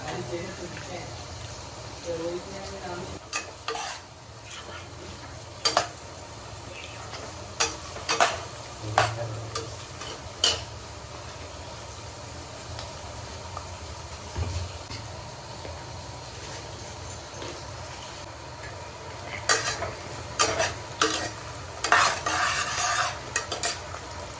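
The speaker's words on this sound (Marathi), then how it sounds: "तेलात कांदा पहिले फ्राय करून घ्यायचा आहे" Chopped onion fries in hot oil in a home kitchen pan, giving a steady, low sizzle with frequent clinks and scrapes from a stirring spoon, while voices murmur faintly in the background.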